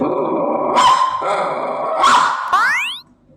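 A voice imitates a dog, growling low, then letting out a few loud barks and a rising yelp at the end.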